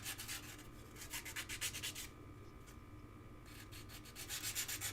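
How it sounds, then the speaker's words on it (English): Fine 600-grit sandpaper rubs back and forth over the sharp edges of a wrapped metal tube, a close, steady run of raspy strokes with a brief pause midway before the rubbing resumes. "if you feel sharp edges, do take the time out to give a little tiny bit of sandpaper. This is 600 sandpaper."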